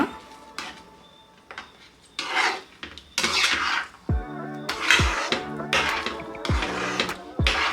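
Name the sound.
stirring turmeric water into rava kesaribath in a pan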